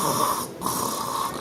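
A voice imitates snoring in a continuous rough, throaty rasp lasting about a second and a half, close and loud, with one short break in the middle.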